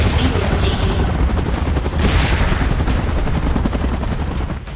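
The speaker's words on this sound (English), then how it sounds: "Chopper in position." Video game helicopter hovering in an evacuation scene, a loud continuous rotor roar with dense thumping chop and bursts of gunfire mixed in throughout.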